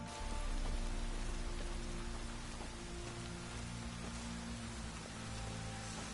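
Steady rain falls in The Witcher 3, a dense, even hiss that stays loud and continuous across the whole stretch, with a low ambient hum beneath and no voices.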